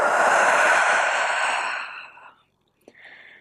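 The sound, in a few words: exhaling breath during low lunge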